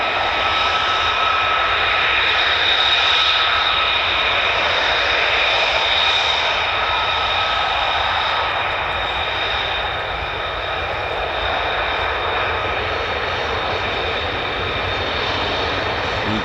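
A US Air Force fighter jet from the 493rd squadron at RAF Lakenheath gives off a sustained high engine whine with tonal harmonics, steady and fairly close, easing slightly midway before holding on.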